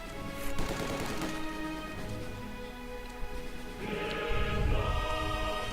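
In Company of Heroes 2, an MG42 machine gun bunker fires loud, sustained bursts of rapid automatic gunfire in a battle soundscape, the volleys continuing without pause and swelling toward the end.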